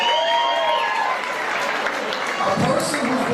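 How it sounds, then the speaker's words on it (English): Guests at a charity foundation gala give a round of applause that's mixed with overlapping voices and crowd chatter, the clapping fairly close and moderately loud for a few seconds. "Let's give them a nice round of applause."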